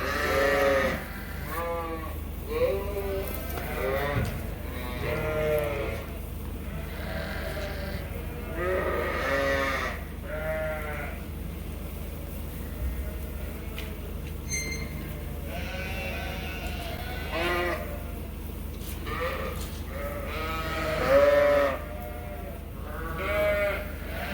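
Many sheep bleat over and over at feeding time on a farm as hay is pushed out along the feeder, with overlapping calls near and far and a constant low hum underneath.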